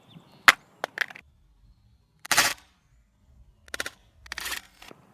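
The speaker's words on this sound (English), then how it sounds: "iPhone 6 face down drop test, 10 feet." An iPhone 6 dropped face down from 10 feet lands with a sharp, hard crack, followed by several short clattering knocks as it is handled, with near silence between the sounds.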